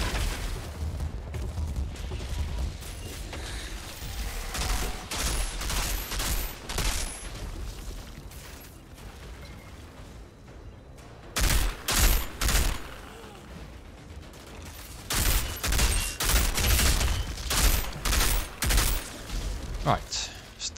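Mortar rounds exploding in the Outriders video game, with bursts of rapid gunfire and booming impacts clustered in two loud stretches, separated by a quieter lull with someone talking intermittently.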